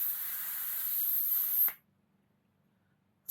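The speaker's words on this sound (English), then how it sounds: "I'll just drop the pressure out of this now." Air hisses steadily out of a tubeless bicycle tyre on a Trek bike as its pressure is let down, a loud continuous broadband rush for about 1.7 seconds that stops abruptly, followed by near silence before a brief burst of hiss returns.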